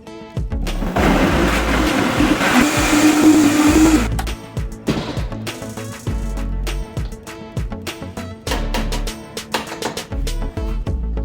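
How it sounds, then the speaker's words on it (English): A blender whirs through canned tomato sauce, a loud steady motor roar that runs for several seconds, then gives way to choppy bursts and pulses. "Alright, let's get this blended."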